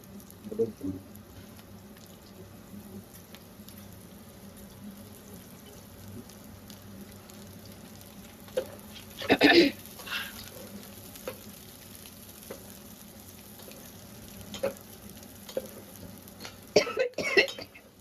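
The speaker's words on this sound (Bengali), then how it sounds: "এবার পেঁয়াজ আর কাঁচা লঙ্কাটা দিয়ে দিচ্ছি।" Onion and green chilli frying in a pan make a quiet, steady sizzle, broken by a few stirring clatters and a cough or two nearby.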